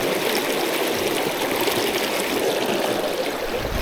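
Cold creek water rushing steadily down a mountain stream near Fish Lake, Utah, a dense, continuous close-up babble and hiss with no break and no voices.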